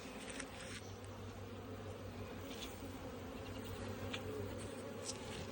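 Honeybees buzzing around open backyard beehives, a soft continuous swarm hum with individual bees droning close past now and then, fairly quiet and steady, no voices.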